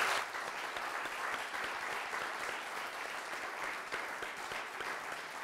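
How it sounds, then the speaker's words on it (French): Audience at a local entrepreneurs' evening with municipal candidates applauds steadily, a continuous crowd of hands clapping at moderate volume with a few sharper individual claps standing out. "Je vous propose de les applaudir, de vous applaudir."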